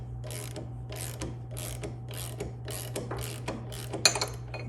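A ratchet wrench fitted with a 19mm socket unscrews the fork top cap on a Yamaha YZ250, giving a close, steady run of rapid clicks against a low background hum, with a few sharper clicks near the end.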